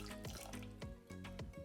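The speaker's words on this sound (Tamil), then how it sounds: "அத்தோடு 60 மில்லிலிட்டர் தண்ணியும் சேர்த்துக்கொள்றேன்." About 60 millilitres of water poured into a pan of strawberries for a strawberry syrup, giving a short run of splashing, trickling bursts close by, with no talking.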